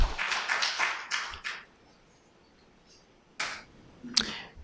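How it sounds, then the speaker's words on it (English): At a county board of supervisors meeting, an audience gives short bursts of clapping with a quiet pause between them; the claps are moderately loud, crisp and brief, and no talking is heard. "I couldn't hear with the applause."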